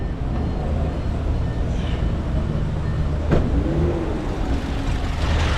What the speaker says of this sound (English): So you can see it's very rough. The engine is even shaking.